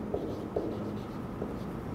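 Writing on a classroom board, with a few short scratchy strokes repeated at a steady pace over a soft background hum, and no voices.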